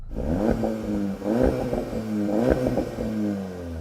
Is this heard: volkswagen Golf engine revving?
yes